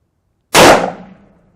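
A single loud, sharp gunshot from a Ruger Blackhawk 10mm revolver firing a jacketed 135 grain load, an abrupt crack after silence that decays quickly into a short ringing tail.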